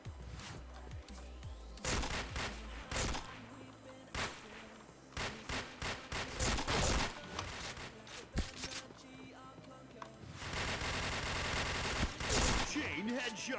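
Video game shooter gunfire with dual-wielded weapons, heavy and continuous, with loud rapid bursts and scattered single shots layered over game effects throughout.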